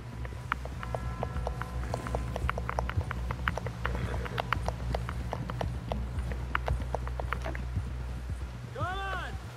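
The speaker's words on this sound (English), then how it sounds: "Someone help John down off this horse." Rapid clip-clop of a galloping horse's hooves runs throughout, mixed with sounds of the game Red Dead Redemption and a voice near the end.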